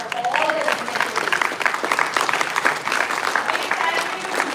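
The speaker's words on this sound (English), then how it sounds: "a big round of applause for all the dignitaries" Applause for dignitaries at a live-streamed event at IIM Lucknow: a large audience claps steadily and loudly, with a faint voice underneath at the start.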